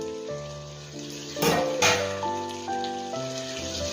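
Hot water poured into frying Malvani-style chicken masala, a splashing, hissing rush of liquid hitting the hot pan at close range over a background of music.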